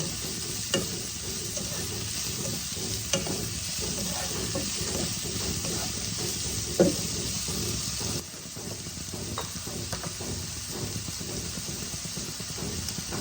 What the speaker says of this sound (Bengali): এবার আমি দেখো ভালো করে ভেজে নেব